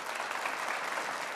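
A seated audience claps steadily for soldiers and veterans, a dense, even wash of applause that holds at a constant level throughout.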